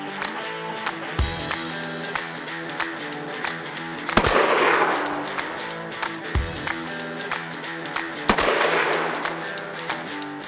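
Sharp, loud shots from a K3 Stutzen .308 hunting rifle fired at an outdoor range, four cracks spaced a couple of seconds apart, each with a brief echoing tail.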